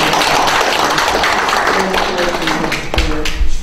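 Audience applause at a public legislative hearing on a basic human rights act, a loud, dense burst of clapping lasting a few seconds with a few sharper claps near the end.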